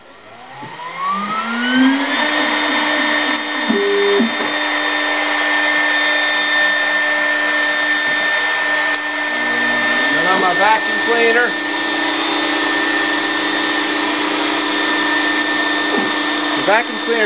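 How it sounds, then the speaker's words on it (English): A vacuum cleaner drones steadily and loudly beside a ShopBot CNC router cutting a shallow pass, its constant whine holding through the whole stretch while the machine's stepping motors sweep up and down in pitch now and then. "The vacuum cleaner seems to be working very well."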